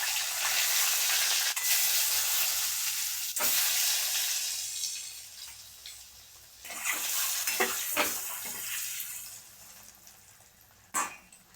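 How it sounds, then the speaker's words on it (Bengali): Eggs sizzle loudly in hot oil, a steady hissing crackle broken by a few sharp clicks and scrapes of a utensil. "এবার আমি ডিমগুলো ভেজে দিলাম"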